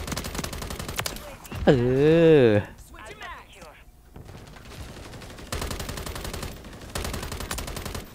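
Bursts of rapid automatic gunfire from an online Call of Duty Modern Warfare 3 match crackle in short volleys, mostly in the second half. Someone talks excitedly over them.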